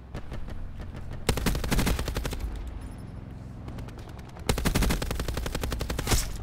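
Long, rapid bursts of LMG machine gun fire in Call of Duty: Black Ops 4, loud and close, with a brief pause between two sustained volleys.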